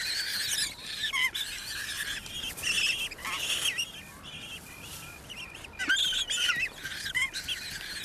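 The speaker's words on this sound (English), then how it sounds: "he hears his chicks screaming" Penguin chicks on an island scream in shrill, repeated squealing calls, several voices overlapping in bursts over a steady outdoor background, close and fairly loud.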